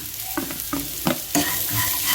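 Onions sizzle in a hot pan for pirandai (veld grape) chutney while a spoon stirs them, scraping the pan in a few quick strokes close by.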